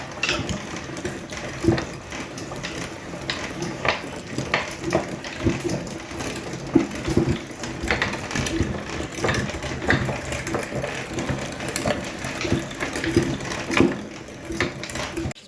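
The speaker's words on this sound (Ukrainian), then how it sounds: "Беремо м'ясо, закидаємо, перемелюємо" A meat grinder minces meat for smoked sausage, a continuous close mechanical churn with ratcheting clicks and crunching, running steadily without a break.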